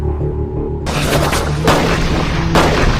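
Heavy gunfire booms during a shootout in a dark forest in the film Vengeance, three loud, dense blasts in quick succession over a rumbling, noisy background, with no speech.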